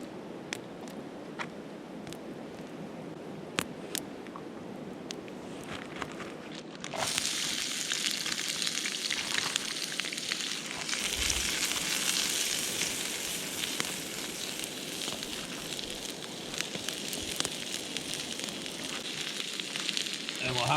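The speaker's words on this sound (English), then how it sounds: "Okay, let's get our vegetables sauteed up. Got the pan hot. Use a bit of olive oil." Vegetables saute in olive oil in a hot pan at a camp, a faint low hiss that swells into a steady louder sizzle once the food goes in, with a few scattered clicks.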